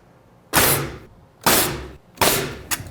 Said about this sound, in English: And to attach these, for the most part, I'm going to use a framing nailer.